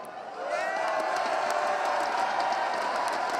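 A live esports crowd in an arena at the CS:GO ESL One New York 2016 grand final swells into cheering and whooping. The roar is loud and sustained after a brief quieter start.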